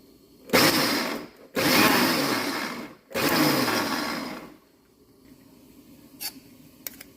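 A mixer grinder grinding coconut and chilli whirs loudly in three short bursts with brief pauses between them, then falls quiet apart from a couple of faint clicks.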